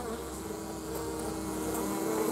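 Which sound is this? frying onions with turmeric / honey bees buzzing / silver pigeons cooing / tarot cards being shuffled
honey bees buzzing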